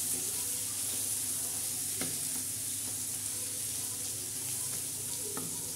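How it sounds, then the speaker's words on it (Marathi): Masala sautéing in a pan for a black-masala chicken curry, a steady close hiss of frying with occasional scraping stirs, no voices. "या पद्धतीने आपण मसाला आता बरबटासाठी परतून घेतलेला आहे"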